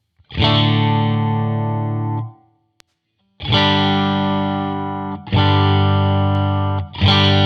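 Electric guitar played through a free amp simulator plugin with a bright switch, four loud sustained distorted chords with long ringing decay, separated by brief pauses.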